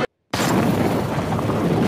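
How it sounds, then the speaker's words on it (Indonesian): A landmine detonating in a desert film scene: one sudden loud blast after a brief silence, followed by a sustained roaring rumble that fills the rest of the moment. "ranjau pun meledak"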